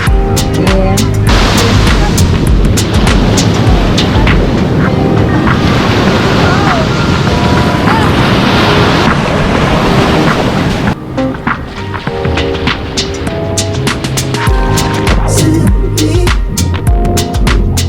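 Ocean waves breaking steadily at a swimming beach in Nusa Dua, Bali, a loud continuous wash of surf with wind buffeting the microphone and people talking over it.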